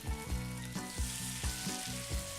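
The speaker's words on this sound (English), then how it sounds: "I'm gonna put my fish in it," Sable fish seasoned with salt and pepper sizzles steadily in a hot pan, close and loud, with soft rhythmic thumps every half second or so over the frying hiss.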